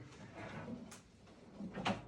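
A drawer of a large chest with black profile handles slides open or shut in a bedroom furniture set, with soft wooden rumbles and a couple of brief knocks close by, quiet overall.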